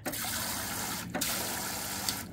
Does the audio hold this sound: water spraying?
yes